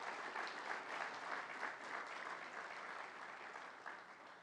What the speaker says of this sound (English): Let's get a round of applause for our winners thus far.